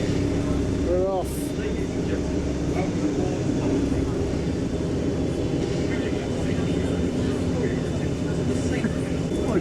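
A UK hovercraft ferry rides on its air cushion with a loud, constant engine and fan roar. People talk over the steady drone throughout.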